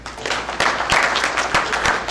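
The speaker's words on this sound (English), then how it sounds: "We should give ourselves a round of applause." Short burst of audience applause at a banquet and dance, moderately loud and uneven, with a few sharper claps standing out from the crowd.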